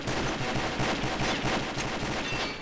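Rapid, loud automatic fire from an M2 Browning heavy machine gun in the Combat Arms shooter game, a continuous dense burst of shots running for a few seconds without pause.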